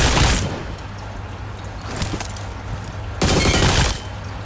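Automatic M4 rifle fire in PUBG, with loud sustained bursts of rapid shots at the start and again near the end and a quieter noisy stretch between them.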